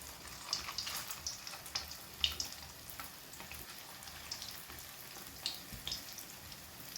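Fish fillet deep-frying in oil, a steady soft crackle of popping bubbles with scattered sharper spits throughout, fairly quiet and close, with no voices.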